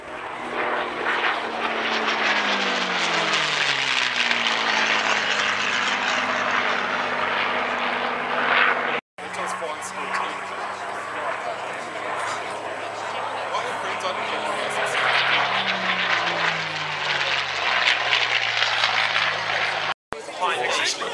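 P-51 Mustang warbird at the Warbirds over Wanaka airshow in New Zealand roars past, its propeller engine droning loud and steady with a sliding Doppler pitch as it passes, under crowd and announcer talk.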